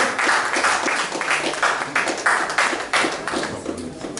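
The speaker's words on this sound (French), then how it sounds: "sous vos applaudissements, s'il vous plaît." Concert audience applause for a reggae singer, with many hands clapping in a fairly rhythmic, pulsing pattern that stays loud and steady throughout.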